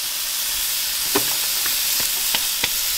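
A braided pork fillet sears in a hot pan, giving a steady bright sizzle and hiss with a few sharp crackles and pops scattered through, close and fairly loud, without any voices.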